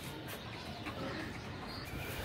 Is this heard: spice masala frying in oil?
no